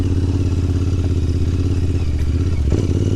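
A Continental GT 650 Twin motorcycle engine idles close by with a steady, throbbing parallel-twin beat, and a brief clatter and thump near the end.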